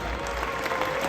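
Audience applause at a Grand Cru wine auction, a steady mass of clapping from a crowd filling the room, moderately loud and continuous with a low hum underneath.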